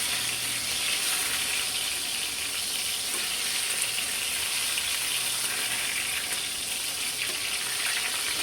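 A continuous, dense sizzle of eggplant frying in a pan of oil stays loud and close from start to finish, uninterrupted by talk.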